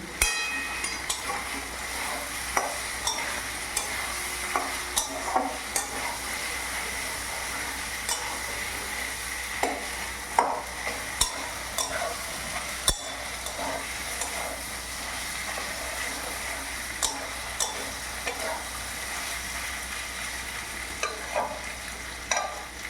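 A spice masala being stirred as it fries in oil for a Bengali fish-head mung dal: a steady sizzle runs throughout, with repeated scraping and light clinks of the spoon against the pan, close up and without any talking.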